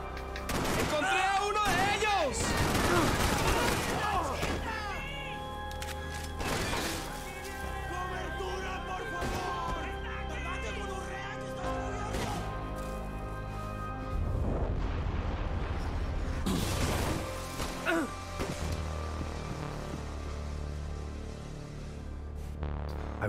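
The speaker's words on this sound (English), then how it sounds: "Gunshots and violence." Gunfire from the video game Max Payne 3, with dense bursts of shots and booms repeating throughout over a continuous musical score.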